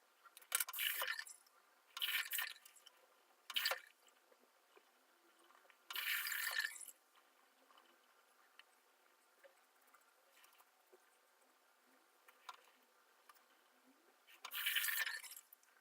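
A Treet Dura Sharp razor blade scrapes across stubble in short, quiet, close strokes, each a bright rasping burst lasting about half a second to a second, separated by pauses with faint background hiss.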